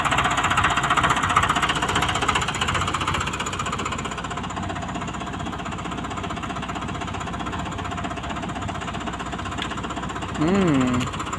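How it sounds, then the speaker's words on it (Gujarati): A tractor engine runs in a steady, loud, rattling chug that holds throughout, with a brief rising whine near the end and a voice talking faintly over it. "આવી ગયું છે ટ્રેક્ટર."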